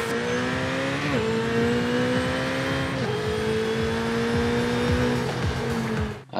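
Stock Ferrari 488 Corse Clienti GT3 race car engine in Forza Horizon 5 revs hard out in the open, a loud continuous high-pitched wail with sharp gear-shift dips and tire squeal, no talking.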